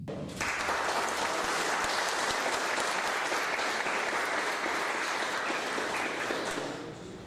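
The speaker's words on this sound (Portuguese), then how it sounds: "com uma salva de palmas aí pro Gui" Steady, sustained applause from a workshop audience on innovation, entrepreneurship and AI, a dense even roar of many clapping hands lasting about seven seconds before tapering off.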